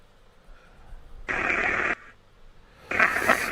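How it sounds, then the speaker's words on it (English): Two bursts of broadband white-noise hiss from a white noise generator, each cutting in abruptly and stopping dead, the first about two-thirds of a second long and the second slightly shorter, with quiet room tone between them. "I'm just using the white noise generator on it at the minute"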